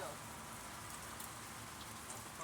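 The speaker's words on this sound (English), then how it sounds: "let her play in the rain." Steady rain falling during a thunderstorm, a dense continuous hiss of drops on surfaces throughout, faint and even, with no clear talk over it.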